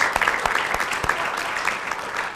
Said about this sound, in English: let's give our photography contest winner a final round of applause